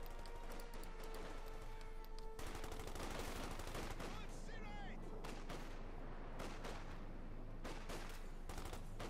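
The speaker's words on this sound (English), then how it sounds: "Bit of shooting there." Dense, continuous gunfire crackles through a Company of Heroes 2 1v1 battle between Wehrmacht and US Forces, with rapid overlapping shots and bursts layered over rumbling combat noise throughout.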